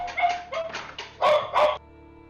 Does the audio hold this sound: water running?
no